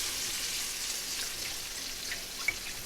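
Chicken broth hits a hot pan and sizzles steadily, a soft, even crackling hiss with a few faint pops.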